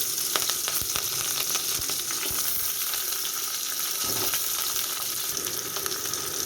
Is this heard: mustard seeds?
yes